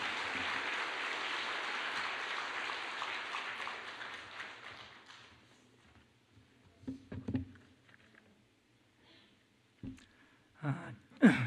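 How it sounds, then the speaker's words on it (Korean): Church congregation clapping during a service, a broad wash of applause that fades out over about five seconds, followed by quiet room with a few scattered bumps and sharp knocks. "우리 출간을 축하하면서 우리 박수로 원로 목사님 모시겠습니다."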